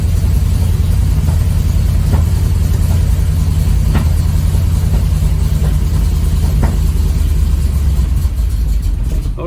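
A 1968 Chevelle V8 idles steadily while warming up, a loud, close, continuous low engine rumble with faint periodic ticks and no speech throughout.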